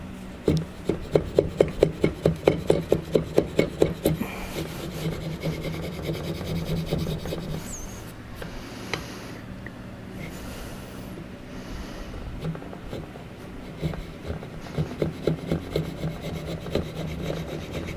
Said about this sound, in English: when you have a bigger chisel, it means you can create a much more consistent cut